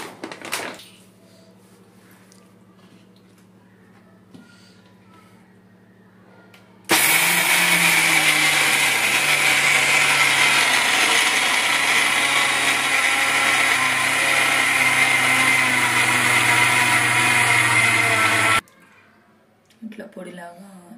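A mixer grinder whirs loudly and steadily for about twelve seconds, grinding cashews and sugar into a fine powder, starting and stopping abruptly, with quiet moments on either side.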